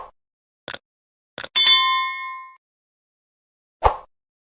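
A bright notification bell rings once with a clear ringing decay, set among a few short clicks and swishes before it and a single soft thump afterward, all against silence.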